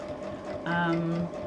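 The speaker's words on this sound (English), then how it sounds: "you're stitching through multiple layers, and this is literally a top stitch" A sewing machine top stitching through multiple layers of a bag, a brief whirring run of the motor heard under someone talking.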